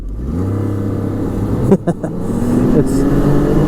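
A Ski-Doo Renegade 900 ACE snowmobile engine runs at full throttle in eco mode with a steady, loud drone that rises slightly in pitch. Brief clicks and wind noise break in near the middle.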